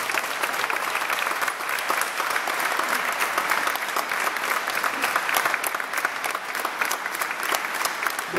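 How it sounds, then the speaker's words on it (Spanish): Steady, dense applause from a large audience at a Latin American instruments charango festival in Rosario, a sustained wash of many hands clapping for the full stretch with no break. "Un aplauso, por favor."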